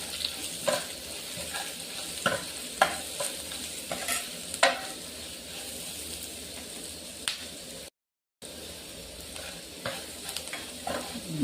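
Pumpkin pieces sizzle in a pan with salt, turmeric and masala while a spoon stirs, sharp scraping clicks landing irregularly over a low steady fry, with a brief dropout partway through.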